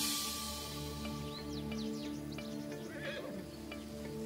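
A horse whinnies with a rising and falling neigh, heard fairly faint over a steady background hum, with a few bird chirps mixed in and no talking.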